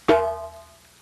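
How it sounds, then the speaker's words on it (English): Single slap struck on an African hand drum, a sharp bright crack with a ringing tonal tail that fades within about half a second, close and alone. "and a beautiful slap"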